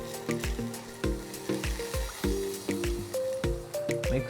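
Hot spiced oil tempering (tadka) is poured into a Kerala mango curry, giving a run of sharp sizzling crackles and pops, about two per second, heard close and alone at moderate loudness.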